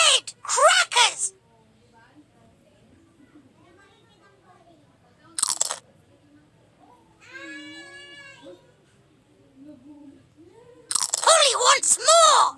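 A cartoon parrot in a Peppa Pig feeding game crunches red crackers in short loud bursts, with gaps between them and a brief squawking voice in the middle.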